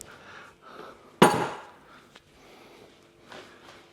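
A single sharp, loud hammer blow lands on the rear suspension of a Subaru in a workshop, followed by a faint metallic tap and quiet shuffling.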